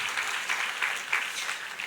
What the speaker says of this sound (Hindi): जोरदार ताली बजाकर हमारा लीडर्स के लिए परमेश्वर को धन्यवाद दीजिए